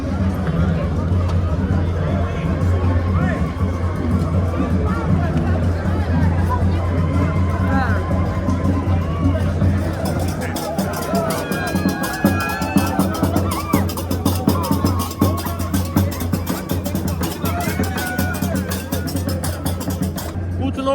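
A dense crowd hubbub fills a street festival in Europe, likely Britain, with many overlapping voices and footsteps forming a steady, close wash of chatter that grows busier partway through.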